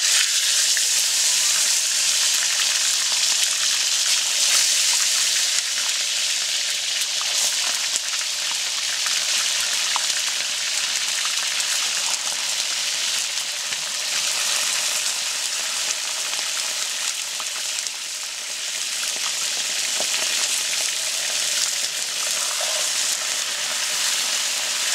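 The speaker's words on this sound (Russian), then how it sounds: "отправляем в казан мясо" Meat for Samarkand pilaf fries in a kazan, a loud, dense, continuous sizzle and crackle like heavy rain that holds steady throughout, with no talk.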